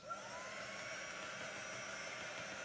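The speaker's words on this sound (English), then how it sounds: "And then I'm going to just hit this with my dry tool." A heat dry tool blows on a chalk craft door tag in a steady, close, moderately quiet whir with a faint high whine, continuous for the whole stretch.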